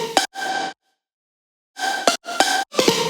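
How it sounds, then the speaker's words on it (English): A bright, breathy synth layer from Alchemy plays short rhythmic stabs with airy hiss and ringing tonal partials, a pause in the middle, then several more clustered hits. "this is has a lot of like airy textural kind of stuff in the high end."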